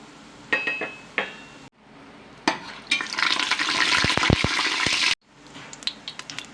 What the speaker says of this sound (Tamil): பட்டை, சோம்பு, கிராம்பு, மசாலாலாம் எல்லாத்தையும் போட்டுக்கலாம்.